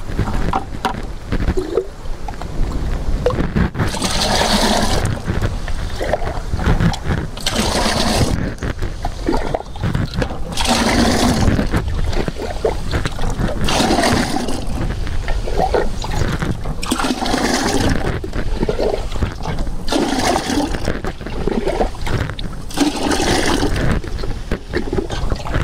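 Water is tipped by the jugful into a drum holding cow dung for sugarcane seed treatment, loud repeated gushing splashes in bursts with short gaps between pours, close by and without talk.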